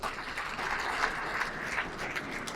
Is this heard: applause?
yes